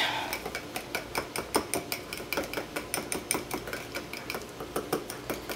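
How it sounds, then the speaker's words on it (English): Whisk stirring cold process soap batter in a bowl, a steady rapid series of clinking, scraping strokes against the container, close and moderately loud. "let's use the other whisk"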